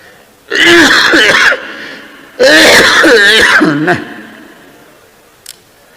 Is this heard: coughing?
yes